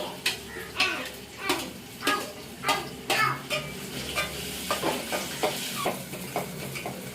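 Onion and potato frying in hot oil with chilli powder, a continuous sizzle broken by a regular run of loud scraping stir strokes against the pan, close by.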